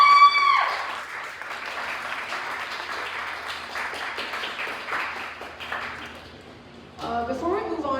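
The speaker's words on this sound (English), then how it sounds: "So just please clap again for everyone who's speaking" Audience applause at a poetry night, a dense wash of clapping that holds steady and then fades, with a voice starting to speak near the end.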